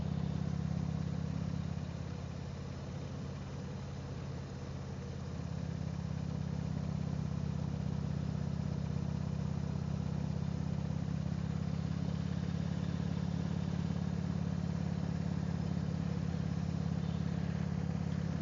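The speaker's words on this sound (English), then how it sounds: "Today I'm riding my 2005 Harley Davidson Electra Glide Ultra Classic for my choice of rides today." A 2005 Harley Davidson Electra Glide Ultra Classic cruising on a road, its engine giving a continuous loud low rumble with a slight dip then steady drone, mixed with heavy wind noise throughout.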